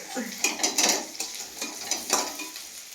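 Potatoes frying in a pan, on the point of burning, make a bright crackling sizzle, punctuated by several clinking scrapes of a utensil stirring against the metal.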